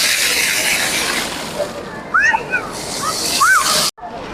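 Water splashes and sloshes steadily in a children's swimming pool at night in Medina, Saudi Arabia, a constant hissing wash with a few high chirps, and voices can be heard over it.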